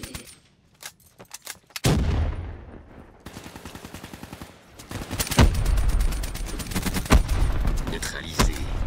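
Machine gun fire in Call of Duty Black Ops 3 online multiplayer, with scattered single shots at first, then long rapid bursts crackling close and loud, mixed with other gunfire and occasional voices.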